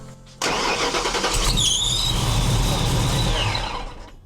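A Ford Fox body Mustang with a supercharger blower starts and runs loud and close, a steady engine roar with a high whine from the blower that fades slightly near the end.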